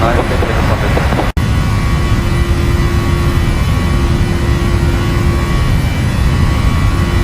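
Jet airliner engines roaring at Lijiang Sanyi International Airport during takeoff on runway 7 right, a loud steady rumble with a sustained tone, heard from inside the cabin with a brief dropout early on.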